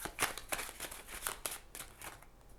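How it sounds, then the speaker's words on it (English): Tarot cards being shuffled by hand, a run of quick crisp riffles and slaps repeating roughly every half second, close and fairly quiet, with no talking. "do you like shuffling on camera, or do you just prefer to skip that?"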